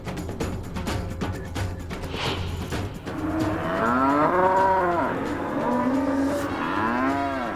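Hungry cows at the Sahyadri cow farm in Baramati let out long, loud, drawn-out moos with rising and falling pitch, several calls overlapping near and clear.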